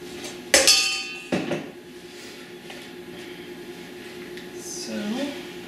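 Metal clanks against a pot as a goat milk soap mixture is stirred. There are two sharp, loud knocks early on, then softer scraping and quiet stirring noises, with a faint squeak near the end.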